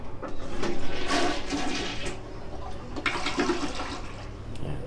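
A toilet flushes loudly up close, a rushing swirl of water that surges, eases, then swells again before settling into a refilling trickle.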